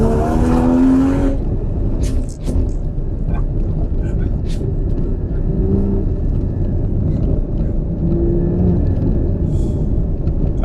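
A car pulling hard in first gear, a loud, close, continuous engine rumble and roar that holds steady, with a person talking over it.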